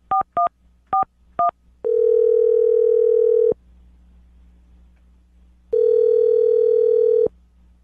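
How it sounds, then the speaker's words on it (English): Four short touch-tone beeps on a telephone as a number is dialed, followed by two long, steady electronic tones separated by a quiet gap, heard clearly and alone. "I'm going to dial the phone number right now, get him on the phone"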